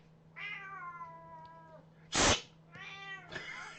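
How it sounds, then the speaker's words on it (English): A cat gives a drawn-out meow, followed by a short hiss-like burst and two more quick meows, close and clear in a quiet room. "Crazy cat lady meowing back to Safi."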